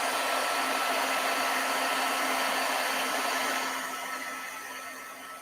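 A heat gun blows steadily from underneath a sheet of glittered vellum during stamping, a loud, even whooshing roar of hot air that holds for several seconds and then eases slightly softer toward the end.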